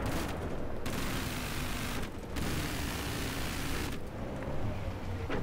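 Sustained enemy gunfire in Battlefield 3 multiplayer on Wake Island, a dense roar of shots and rattling fire that continues throughout with brief dips.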